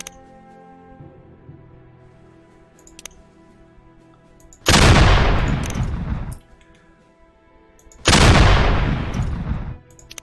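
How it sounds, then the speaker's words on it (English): Two heavy artillery barrages land in Operation Citadel, each a loud rolling roar lasting about two seconds, separated by a quieter stretch of faint ambient clicks. "Artillery these poor boys to death."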